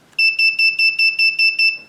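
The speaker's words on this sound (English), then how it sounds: "I hope that was 9 beeps." Eight or nine sharp, high electronic beeps from an Arduino-driven buzzer in a steady, even rhythm, loud and close, with no other sound between them.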